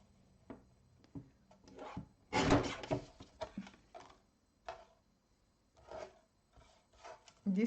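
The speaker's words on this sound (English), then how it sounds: "I'm just gonna grab my trimmer by Tonic Studio so I can trim the sentiments" A Tonic Studio paper trimmer used on card sentiments gives soft sliding, rubbing and a short sharp cutting rasp, quiet and close, in separate bursts with pauses between.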